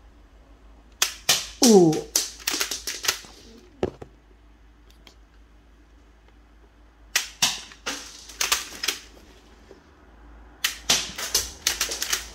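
Temu replica Heckler & Koch UMP 45 blaster firing in three rapid bursts of sharp snapping shots, close and loud, separated by quiet pauses, with a brief spoken exclamation early on.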